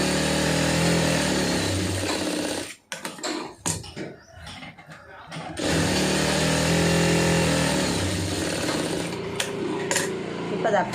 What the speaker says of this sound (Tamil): இப்போ இதில் வந்து ஒரு தையல் போட்டுருங்க துணி விளக்கிடாமல்